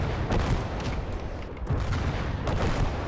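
Artillery fire in the World War II strategy game Gates of Hell: Ostfront, with heavy low booms and rumbling blasts overlapping in a dense, continuous barrage, loud with no talk.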